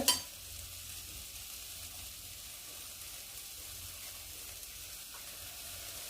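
Coriander seeds, cumin, black pepper and dried red chillies dry-roast in a pan with a faint, steady crackling sizzle, after a soft clink at the very start.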